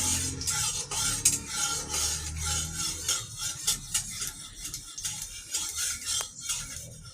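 Prawns frying lightly in oil in a pan as part of a bottle gourd and prawn dish, heard as a soft sizzle with scraping and clinks of a utensil against the pan, moderately quiet, with no voices.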